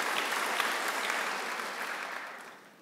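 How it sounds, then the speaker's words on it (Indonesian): A congregation applauds during a church worship service, steady dense clapping from many hands that carries on evenly and then tapers off at the end. "tepuk tangan bagi Allah kita saudaraku"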